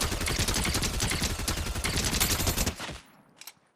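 Purple SMG in Fortnite firing one long, rapid, unbroken burst up close that cuts off sharply near the end, followed by a couple of faint clicks, with no voices.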